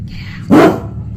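A dog gives a single sharp, loud bark close by, reacting aggressively to something strange, with quiet room noise before and after.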